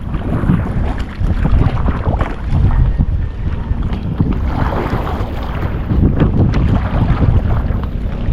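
Steady, heavy wind buffeting the microphone outdoors, a continuous roaring rumble with gusty fluctuations, likely on open water.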